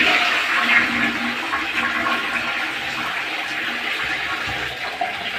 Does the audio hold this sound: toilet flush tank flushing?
yes